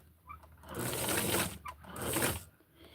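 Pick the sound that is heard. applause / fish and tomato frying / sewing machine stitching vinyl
sewing machine stitching vinyl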